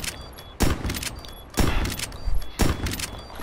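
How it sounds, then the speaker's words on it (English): A shotgun fires in a video game match on a Drive-in map, with three loud, sharp blasts about a second apart, each followed by a short decaying tail over faint game background noise. "And it's nice when you just shotgun."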